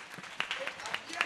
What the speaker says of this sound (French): Si vous avez compris, applaudissez pour moi.